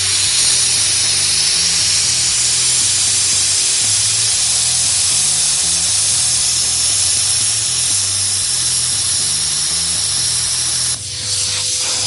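A Hypertherm Powermax45 XP plasma cutter slices through 14 gauge thin sheet metal with a 3/16 bracket on it. It makes a loud, steady, close roaring hiss for about eleven seconds, then cuts off abruptly.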